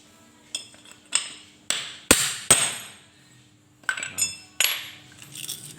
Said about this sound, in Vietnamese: chúng ta đóng phần cốt này xuống.